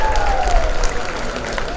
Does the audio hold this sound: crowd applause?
yes